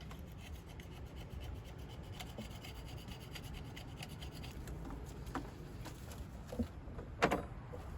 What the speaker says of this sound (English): You can also use a Scotch-Brite for this, or some fine sandpaper with a very fine grit,